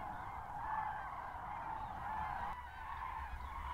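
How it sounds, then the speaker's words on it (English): Common cranes call at a migration stopover at Lac du Der-Chantecoq, France, as a dense, continuous chorus of distant honking and trumpeting from a large flock, steady throughout. "Cranes in characteristic V formation may be spotted all along their migration routes, but the stopover sites provide the most favorable conditions"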